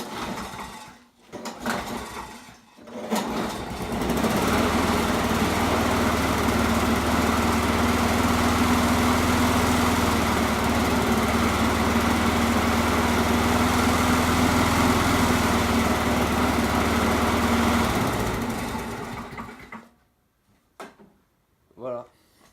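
A Husqvarna Royal 53 S walk-behind lawn mower engine starts after a few short bursts, then runs at a loud, steady drone for about fifteen seconds before cutting off, with faint talk around it.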